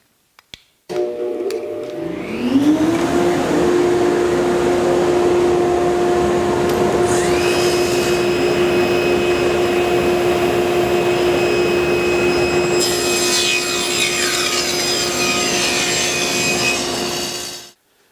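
A table saw with a sled spins up, then its blade whines steadily and loudly while trimming closet panels to length, with the cut rising partway through before the motor winds down.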